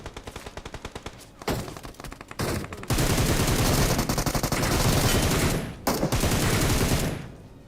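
UMP submachine gun fired in a mobile battle royale shooter, starting with short rapid bursts, then long loud sustained automatic fire with brief pauses between strings, close and dominant, with no talk.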